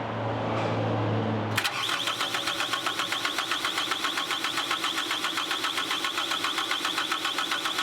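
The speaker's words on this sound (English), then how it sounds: "we're spinning the engine over" A Caterpillar skid steer engine idles low, then a sharp click and a rapid, even rhythmic chugging starts and continues steadily, like a starter cranking the engine over.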